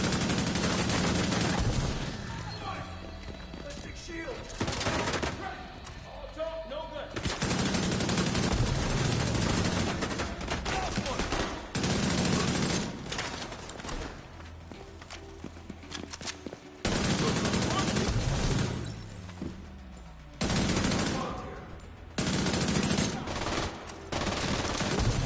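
Automatic gunfire from The Division 2 roars in long sustained bursts, nearly continuous with brief gaps, loud and dense throughout, with occasional talk faintly underneath.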